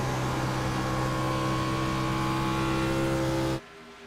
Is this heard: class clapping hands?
no